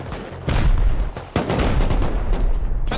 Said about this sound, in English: I'm gonna shoot a rocket into their fucking crag